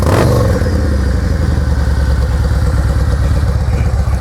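A used Yamaha Road Star Warrior motorcycle engine idles steadily up close, a loud, even, throbbing rumble with a lumpy rhythm and no change in pace.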